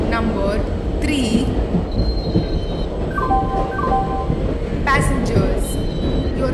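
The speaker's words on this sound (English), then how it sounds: "Train number 1 0 2 0 1 Goods Express is arriving at platform number 3." A goods express train pulls into a station platform in the Indian Train Simulator game, with steady rumbling wheels, squealing and clacking rails, and bursts of horn-like tones. A voice talks over the whole sound.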